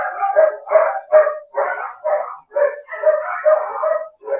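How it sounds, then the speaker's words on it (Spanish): Dogs fighting through a gate, a rapid run of loud, close barks, yelps and snarls in uneven bursts with no talk over them. "Se están peleando a través del portón con los otros perros."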